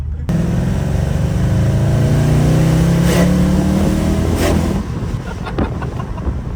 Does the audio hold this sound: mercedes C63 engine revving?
yes